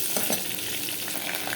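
Chicken biryani masala fries and sizzles in a pan while being stirred, a steady close crackle with soft scraping strokes throughout.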